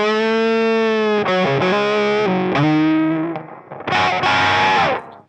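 Electric guitar run through a Mythos Argo octave fuzz pedal, loud and thick with distortion, playing sustained chords and bends in a few phrases that swell, drop away briefly, then return before cutting off.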